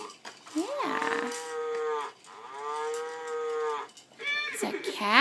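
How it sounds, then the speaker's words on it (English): A toy baby walker plays a recorded cow mooing, several long drawn-out moos one after another, clear and close, with faint background sounds in the room. "It's a cow."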